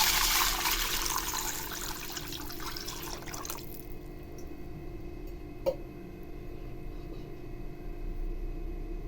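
Water is poured from a measure into a pot for vegetable oats soup, a steady rushing splash for about three seconds that stops abruptly, followed by quiet with one small clink.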